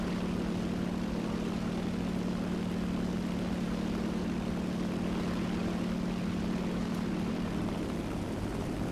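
Engine of an SBD-3 dive bomber, an American World War II aircraft, in War Thunder: a steady, loud propeller drone with a constant low hum that runs unbroken throughout.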